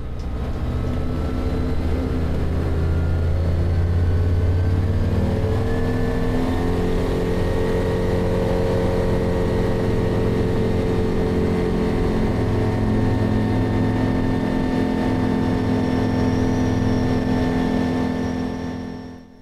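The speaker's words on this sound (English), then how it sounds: "take a listen to the RPMs on the takeoff roll and let me know if you hear the change" A propeller aircraft with an unusually thin prop runs at full power on its takeoff roll, a loud, steady engine drone with rising harmonic tones that holds throughout and fades slightly at the end.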